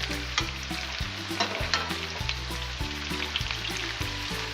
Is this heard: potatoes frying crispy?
yes